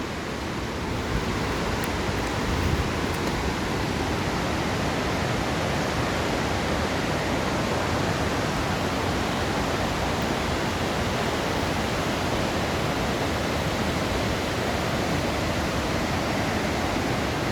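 Water gushes steadily out of a cave mouth as a waterfall in a natural setting, a dense, constant roar close by that holds even in level the whole way through, with no voices over it.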